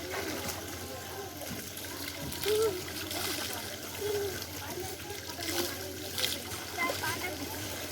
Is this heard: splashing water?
yes